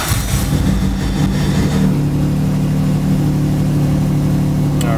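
A turbocharged Honda NSX engine cold-starts and settles into a steady, loud idle, its low rumble holding evenly close by with no one talking.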